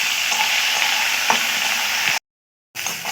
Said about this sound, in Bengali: দিয়ে নাড়াচাড়া করে পেঁয়াজ পাতাগুলো খুব ভালো করে ভেজে নেব